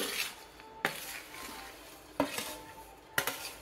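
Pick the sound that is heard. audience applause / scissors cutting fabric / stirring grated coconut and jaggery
stirring grated coconut and jaggery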